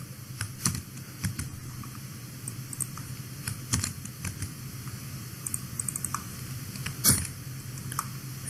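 Login details being typed on a computer keyboard: a steady run of close, light key clicks with a few louder strikes, over a faint room hum and no talking.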